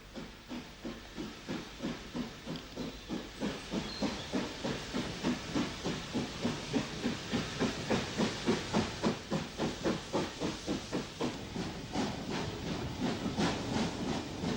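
GNR SG3 Class 0-6-0 steam locomotive number 35 pulls a northbound goods train away from Goraghwood, its rhythmic exhaust chuffs steadily quickening and growing louder amid hissing steam.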